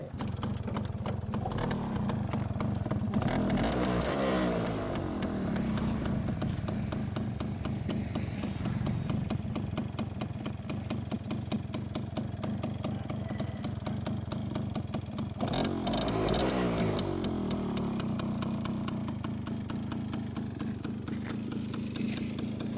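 A restored Yamaha Mate 100 motorcycle, a former green police bike, with its engine running steadily close by, a continuous buzzing idle that swells briefly twice as the throttle is blipped.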